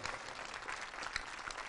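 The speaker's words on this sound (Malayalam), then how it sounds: "എഴുന്നേറ്റ് നിന്ന് ഒരു വലിയ കയ്യടി കൊടുക്കുക" An audience at a theatre performance of the drama Othello applauds the actress, producing a faint, continuous patter of many hands clapping that sounds distant and thin.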